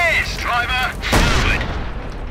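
A single heavy boom from a tank cannon in World of Tanks clan wars, one sharp loud blast trailing into a short decay, following some brief voice chatter.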